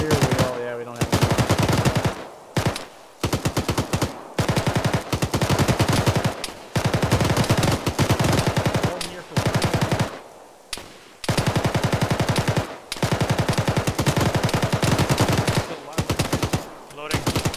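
Mounted front gun of a vehicle in ShackTac, a military game, firing long, loud machine-gun bursts that hammer on and off with brief gaps between volleys.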